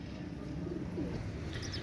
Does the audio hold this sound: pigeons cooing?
yes